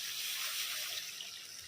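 Hot water poured into a pan of fried spice masala, a short soft rush of liquid heard close and fairly quiet for under two seconds.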